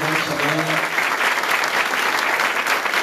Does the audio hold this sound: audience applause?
yes